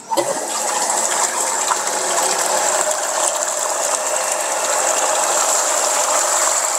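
A Shimizu BWJT 2-4 multistage centrifugal pump runs steadily after switching on, with a loud, constant mechanical whir and rushing, gushing water noise. There is no talk.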